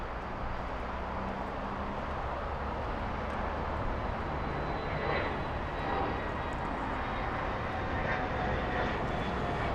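A Condor airliner taking off from the south side at LAX, a steady broad jet roar holding at a constant level from beginning to end, heard at a moderate distance with no voices.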